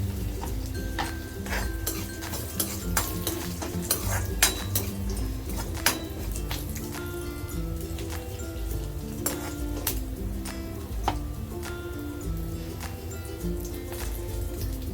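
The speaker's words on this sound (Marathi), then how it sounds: "काजू तुपात छान फ्राय करून घ्यायचे, थोडंसं ब्राऊन रंग येईपर्यंत" Green chillies and cashews fry in ghee with a steady crackling sizzle, over which sharp clinks of a utensil against the pan repeat throughout, alone without talk.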